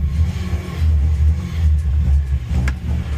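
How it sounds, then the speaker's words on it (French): A Talbot Samba engine has just fired up and runs with a low, uneven rumble at close range, with a brief rev near the end and no talk. "Elle démarre au quart, c'est génial."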